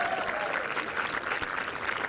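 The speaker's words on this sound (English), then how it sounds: "Let's go up a round of applause." Crowd applauding at the Lexus British Open Wheelchair Championships tennis event, a continuous, fairly faint patter of many hands heard from a distance.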